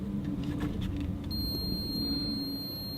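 A wood moisture meter beeps a steady high-pitched tone while testing a damp piece of wood, the beep holding continuously over a low background rumble for the latter half.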